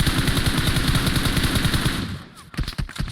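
Rapid automatic gunfire in a PUBG-style shooter, with a fast, loud burst of shots that runs steadily, then breaks off into a few separate bangs near the end.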